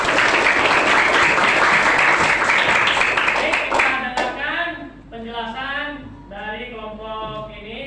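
Classroom students applaud a classmate, a dense, loud burst of clapping lasting about four seconds before it stops abruptly and a voice continues speaking.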